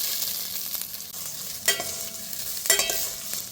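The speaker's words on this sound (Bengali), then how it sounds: "এই রাইসটা অ্যাড করে আমি একটু হালকা ঘির সাথে ভেজে নেবো" Rice frying in ghee with spices, stirred in a pan: a continuous crackling sizzle with two sharper scraping stir strokes, close and without speech.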